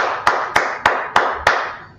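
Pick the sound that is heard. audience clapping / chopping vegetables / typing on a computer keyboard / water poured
audience clapping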